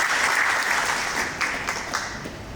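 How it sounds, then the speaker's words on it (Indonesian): Applause from an audience at a national police event honouring police personnel who are volleyball players, dense steady clapping that slowly fades toward the end. "Tepuk tangan buat mereka semua."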